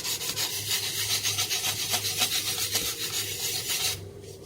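Sanding excess glue off a plastic McDonnell Douglas F-4 Phantom II model kit: steady, close rasping strokes rub back and forth, then stop abruptly near the end.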